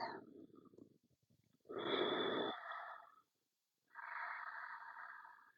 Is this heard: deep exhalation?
yes